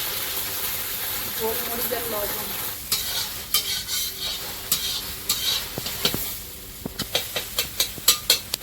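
Salted egg stir-frying in oil in a large biryani kadai, a steady sizzle with sharp scraping stir strokes that grow into a rapid rhythmic series of clacks near the end, close and fairly loud.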